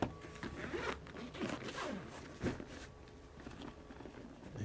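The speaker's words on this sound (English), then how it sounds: "zip it up" A collapsible stool's carry bag is zipped shut with several quick, scratchy zipping strokes, quiet and close, with no talking.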